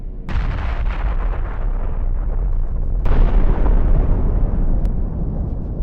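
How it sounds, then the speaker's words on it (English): A powerful blast rips apart an armored vehicle struck by an anti-tank missile, a loud sustained roar of explosion and burning debris with a second heavy burst midway and a sharp crack near the end. "a powerful explosion rips the vehicle apart, turning it into a heap of burning metal"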